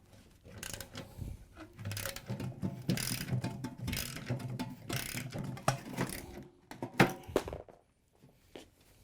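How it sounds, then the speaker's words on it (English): Bolts come off a Samsung washer's tub spider arm with a close run of ratcheting clicks and metallic rattles, irregular bursts of wrench work with brief pauses. "Now that we have all the spider bolts out,"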